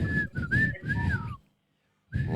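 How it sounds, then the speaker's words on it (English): A man whistles a short tune on a podcast, several bright sliding phrases close to the mic, then a brief pause before he starts whistling again. "No, guys, I think I can whistle it for real."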